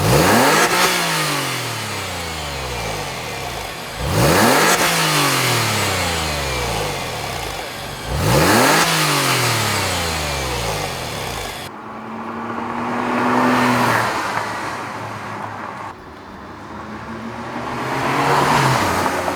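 Porsche 996 on its stock exhaust, revved repeatedly: four sharp rising-and-falling revs in the first half, then longer sustained pulls as it drives off, loud and close with no talking.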